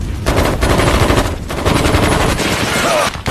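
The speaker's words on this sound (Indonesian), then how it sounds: "disusul dengan serangkaian tembakan" Sustained bursts of automatic gunfire, loud and close, rattling rapidly with brief pauses between volleys.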